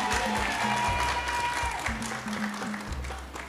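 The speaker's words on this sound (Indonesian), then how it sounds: "Tepuk tangan." An audience at an Islamic primary school sholawat festival in Kampung Coklat breaks into sustained applause, a busy wash of clapping with faint voices and low background tones beneath it.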